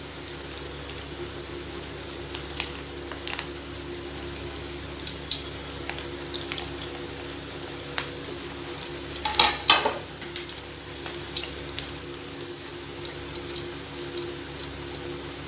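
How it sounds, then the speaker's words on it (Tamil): Peas pakoda frying in hot oil over a medium flame, with a continuous close bubbling sizzle, scattered crackles and a louder burst of spattering midway, no talking. "இப்போ நம்ம மீடியம் ஃப்ளேமில் வச்சுட்டு ஒரு பட்டாணி பக்கோடாவை நம்ம ஃப்ரை பண்ணி எடுத்துக்கலாம்"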